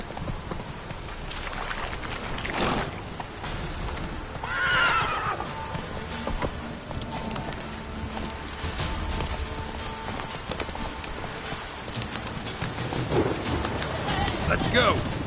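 Roach, a horse in the video game Witcher 3, neighs and whinnies amid a steady clip-clop of hooves at a run, with rain-like background noise and a voice talking over it.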